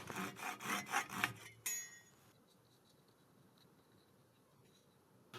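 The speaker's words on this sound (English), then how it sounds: "I'm just going to leave it there and then cut off the end." A saw cuts off the end of a long metal bolt in a workshop, with several quick, rhythmic rasping strokes close by before it stops and falls quiet.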